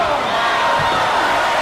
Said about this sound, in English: look, Sal, look at the crowd and listen to them erupt right now.